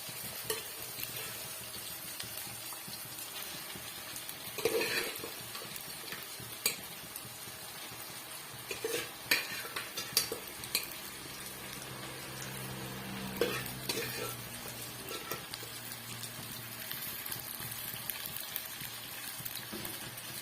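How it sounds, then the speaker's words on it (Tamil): Pieces of country chicken are stirred into a simmering curry masala, with a soft steady sizzle, scraping spoon and pan knocks at close range, and no talk. "இப்போ இந்த ஸ்டேஜில் நம்ம கட் பண்ணி வச்சிருக்க சிக்கன் பீஸுகளை சேர்த்துக்கலாம்"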